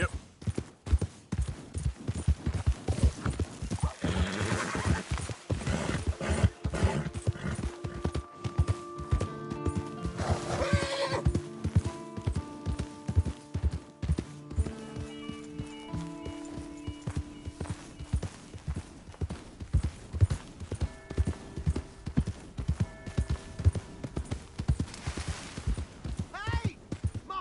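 Horse hooves clip-clop in a steady trotting rhythm in the Red Dead Redemption 2 video game, joined by a couple of whinnies and neighs, with game music tones and voices talking intermittently over the hoofbeats.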